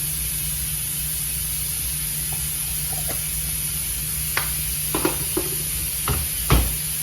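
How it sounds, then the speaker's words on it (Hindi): Moong dal pakoras frying in hot oil in a pan give a steady sizzling hiss throughout, with a few faint clicks and pops near the end and no talking. "मैं आपको ये फ्राई करके फिर इसको फाइनल दिखाती हूँ आपको"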